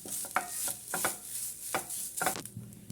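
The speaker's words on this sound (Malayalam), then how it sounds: "നമുക്കിനി ഇതിലേക്ക് തേങ്ങ ഇട്ട് കൊടുക്കാം. നല്ലോണം ഒന്ന് മിക്സ് ചെയ്ത് കൊടുക്കാം" Grated coconut being stirred into a ghee-cooked ripe plantain mixture in a pan, making soft scraping strokes with a spoon against the metal over a faint sizzle, close and steady without talking.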